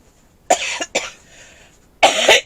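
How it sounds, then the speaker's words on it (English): Several harsh coughs close up: a sharp pair, a short pause, then a heavier burst of coughing. "Still got the cough."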